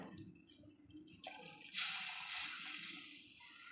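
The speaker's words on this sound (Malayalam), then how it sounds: "ഞാൻ ചൂട് വെള്ളമാണ് ഒഴിച്ച് കൊടുക്കുന്നത്" Hot water pours into a sardine curry in a steady rushing stream that starts abruptly and runs on, fairly close, with no voices.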